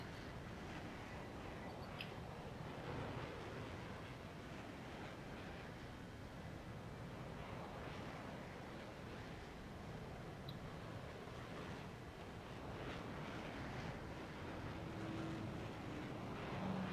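A boat engine drones steadily at a low, even level for the whole stretch, faint and unbroken, with a soft wash of wind and water around it.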